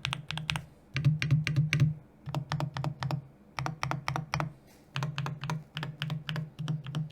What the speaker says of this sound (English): here's how the board sounds with those switches